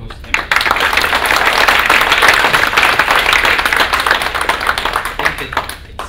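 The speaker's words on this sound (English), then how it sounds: "Round of applause to them." Audience at a panel discussion applauding the speakers, many hands clapping in a dense, loud burst that holds steady for several seconds before thinning out into scattered claps.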